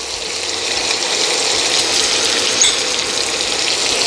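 Bacon and diced onion sizzle in oil and butter in a pan, a steady close hiss that runs unbroken throughout with no voices.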